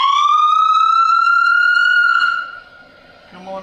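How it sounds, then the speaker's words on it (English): Fire engine siren on a city fire department truck, a loud rising electronic wail that holds for about two seconds, then cuts off and fades into quiet. "You got your siren."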